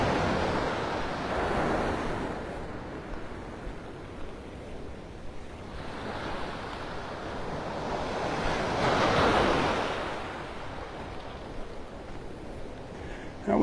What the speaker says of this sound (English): There's waves smacking the beach every once in a while.